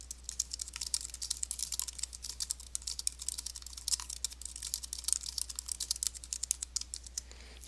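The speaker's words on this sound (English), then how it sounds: "So we're going to write just a little bit of text here." Rapid, steady typing on a computer keyboard while text is written into an article, with close, crisp keystroke clicks running continuously with no talk.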